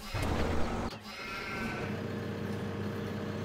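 Sheep bleating in Farming Simulator 17, a short bleat at the start over a low, steady engine-like hum that continues alone afterward.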